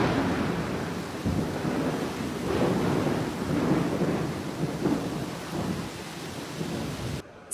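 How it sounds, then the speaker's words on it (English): A lightning storm over Botany Bay, Sydney, brings steady heavy rain and rolling thunder, a dense continuous roar with low rumbles swelling throughout and no voices. "This is a view to Botany Bay with the lightning storm"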